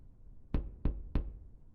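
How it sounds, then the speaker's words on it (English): Three evenly spaced knocks on a door, close and distinct, each one a solid thud over a quiet room. "knocked on the door"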